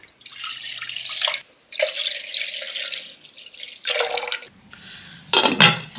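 Water splashes into a cooking pot, six cups measured out for boiling rice for dal khichdi, in several close, loud pouring bursts separated by short pauses, with no talking.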